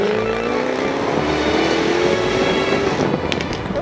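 Jaguar F-Type V8 S engine accelerating hard, a loud, continuous roaring exhaust with rising pitch through the gears, close and dominant with no talk.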